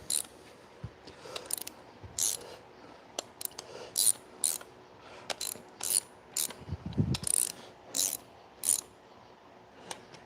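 Torque wrench clicking while bolts on a rotary engine are tightened in sequence, delivering a string of sharp ratcheting clicks at irregular intervals with a low mechanical thud partway through and no voices.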